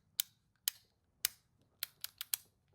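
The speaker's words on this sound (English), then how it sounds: "Now, it is a click lever." Seven sharp, bright clicks at uneven intervals, close and quiet, from the cheap-feeling click lever on a Supreme Trimmer DarkStar 72 hair clipper, with no talking.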